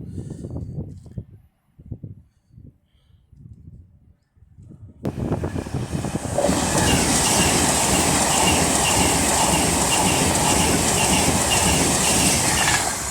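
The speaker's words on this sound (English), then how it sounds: "So here we have 807002 looking an Avanti West Coast service to Holyhead" Avanti West Coast Class 807 unit 807002 passing at Rugby on the West Coast Main Line: quiet at first with faint low rumble, then a sudden loud roaring rush of the train going by close, with wheel clatter and broadband wind noise sustained to the end.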